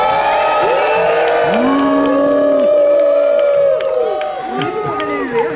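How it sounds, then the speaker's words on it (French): A festival crowd at a staged judicial duel cheers a combatant, many voices whooping and shouting in loud, sustained waves with some clapping mixed in, easing slightly toward the end. "Veuillez applaudir à votre droite"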